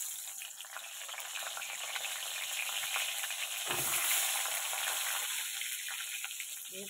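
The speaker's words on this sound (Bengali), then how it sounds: "পটলটা একটু লাল লাল করে আগে ভেজে নিই" Pointed gourd (potol) frying in oil: a continuous, dense sizzle with stirring throughout, close and fairly loud, swelling slightly midway.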